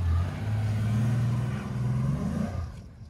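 A Chevy Impala engine revs hard during reverse donuts, a loud low rumbling drone that holds steady and rises slightly before dropping away near the end, heard close with no talking.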